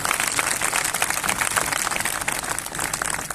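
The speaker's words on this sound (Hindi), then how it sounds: "जोर से ताली जाके धन्यवाद दे, परमेश्वर की स्तुति करें।" A congregation at a Christian fellowship convention in Umarpata applauds together, a dense and continuous wash of clapping that stays loud and even throughout.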